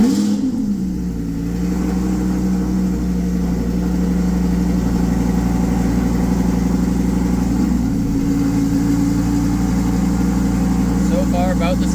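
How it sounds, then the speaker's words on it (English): A tuned 670 hp Lamborghini Huracan fires up from cold with a brief flare of revs, then settles into a loud, steady, deep idle that holds constant, rising slightly near the end. "Let's do first cold start."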